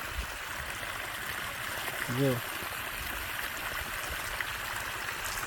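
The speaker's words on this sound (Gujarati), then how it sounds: "આ જો આટલું પાણી આવે એક જ ધારે" Water gushes in a steady stream from a borewell into a 35-foot well in a village near Jasdan, Rajkot, a constant rushing flow heard close by, with someone briefly saying one word.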